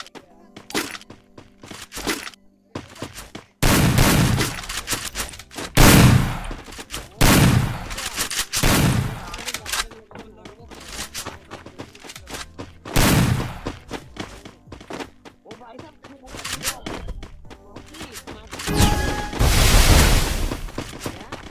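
Shotgun blasts in the Minecraft video game, several loud booming shots spaced irregularly across the span, with quieter game noise and faint talk between them.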